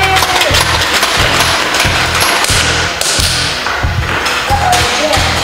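A Buzz Bee Air Warrior motorized Overlord toy blaster fires automatically, a loud motor whir under fast, evenly spaced thumps that repeat about twice a second throughout.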